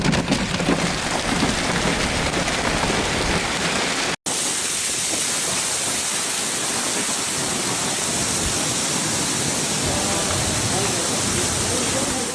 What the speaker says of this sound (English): In the West Valley, we have a pretty strong to severe thunderstorm moving through, Benedict told KTAR News